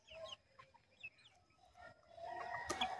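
Chickens on a village poultry farm give scattered clucks and squawks, moderately close, over a low rumble of ambient noise that thickens toward the end with a sharper call near the close.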